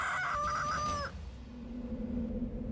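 Farm chickens with a rooster crowing, a single clear crow lasting about a second over low barnyard rumble, then fading into quieter background noise.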